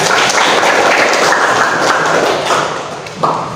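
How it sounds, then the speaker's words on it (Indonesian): A classroom of students claps for a presenting group in a dense, steady burst that stays loud and close for a few seconds before tapering off near the end. "beri tepuk tangan dulu untuk kelompok 3"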